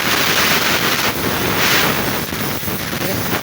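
A loud, steady rush of compressed air blowing dirt from a vehicle engine, a continuous harsh hiss that barely varies, close to the microphone.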